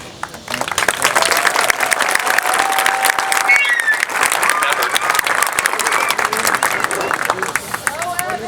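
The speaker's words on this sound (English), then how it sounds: "So give them the applause and the encouragement that they deserve" Audience applause for a high school marching band, a dense, steady wash of clapping with some cheering from a large crowd, sustained and loud throughout.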